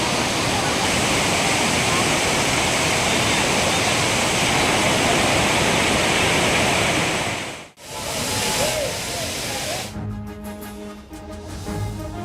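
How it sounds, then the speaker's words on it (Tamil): Courtallam waterfalls with crowds of tourists bathing, a dense steady roar of falling water for most of the clip, then cutting to a quieter scene with voices and other sounds. "குற்றால அருவிகளில் கூட்டம் கூட்டமாக குவியும் சுற்றுலா பயணிகள்"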